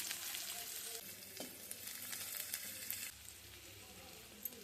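Onions drop into hot oil already holding garlic and ginger for crispy corn, loud crackling and sizzling at first, then easing to a quieter steady fry with light stirring.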